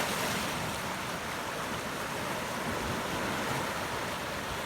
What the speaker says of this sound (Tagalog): Yan, may alon.